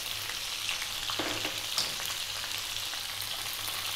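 Finely cut onion and chopped garlic fry in a pan over medium heat. A steady, close crackling sizzle carries on throughout with no talking.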